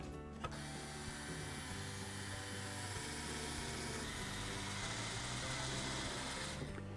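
A small handheld power drill whirs continuously for several seconds in a kids' building lesson, a steady mechanical buzz with a brief click near the start and a slight rise near the end.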